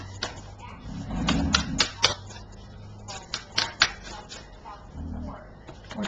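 Dry, papery clicks and riffling bursts of large tarot cards being shuffled come in short clusters, with a low murmur of voices underneath and quiet pauses between.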